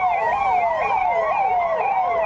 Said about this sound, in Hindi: फ्लैग मार्च के दौरान जब पुलिस की गाड़ियां सायरन बजाते हुए सड़कों पर निकली